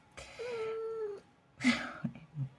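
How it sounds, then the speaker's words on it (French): A domestic cat lets out a drawn, wavering meow, then after a short pause gives a couple of shorter, chirpy vocalizations, close and fairly quiet. "Mon chat."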